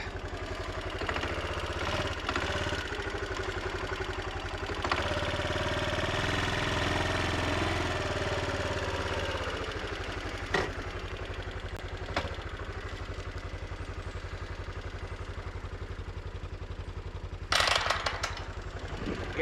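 Four-wheeler ATV engine idling steadily nearby in the rain on a farm, a low continuous rumble with scattered clanks and a sharp clatter near the end, no talking.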